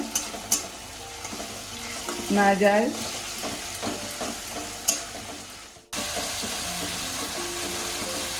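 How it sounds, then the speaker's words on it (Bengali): Onion paste stirred and fried in a pan, a steady sizzle with scraping spatula strokes across the metal, getting louder toward the end, with a brief spoken word early on. "পেঁয়াজ বাটাটাকে দিয়ে আবার একটু ভালো করে কষিয়ে নেব"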